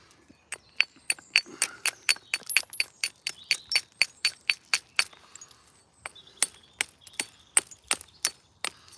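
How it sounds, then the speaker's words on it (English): A small hammerstone knaps a flint edge while making a flint dagger, producing a long run of crisp, bright clicking strikes as flakes come off, close and fairly steady in rhythm with a brief pause midway and no talk. "every time I use this little rock, all I'm doing is I'm just making the edge maybe a little bit steeper"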